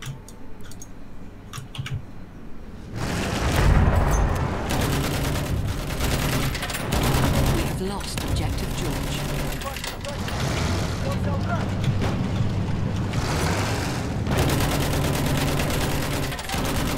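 Rapid gunfire in the World War I shooter Battlefield 1, dense volleys and bursts of shots close by, with keyboard clicking and a voice talking over the shooting.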